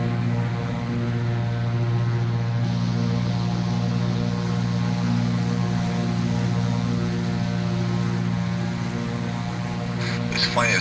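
Propeller plane engine in the Prepar3D v3 flight simulator, a steady droning hum with strong low harmonics that holds evenly and loud throughout, with a brief soft shift near the end.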